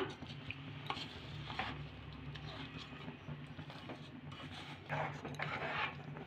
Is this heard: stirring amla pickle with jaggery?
yes